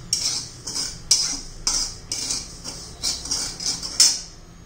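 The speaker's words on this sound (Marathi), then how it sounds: "मस्त असं खमंग असं भाजून घेणार आहोत आपण" Barnyard millet (varai) is dry-roasted in a pan, the grains scraped and stirred in a quick series of about nine crisp, close rasping strokes at a steady rhythm.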